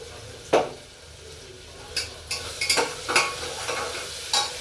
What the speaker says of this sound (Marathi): पहिल्यांदा टाकले चांगलं परतून घेते मग बाकीच्या सगळ्या भाज्या